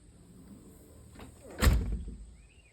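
A door in a cabin under construction swings open or shut, ending in a single solid thunk and a short rattle after a quieter shuffling lead-in. It is close and moderately loud, with no talking.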